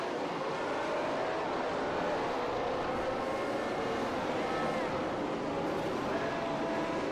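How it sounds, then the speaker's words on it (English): Race car engine in a W12 Sprint Series sim racing game revs steadily and loudly throughout, a dense continuous drone with no pauses. "the engine is clearly revving and he's rolling"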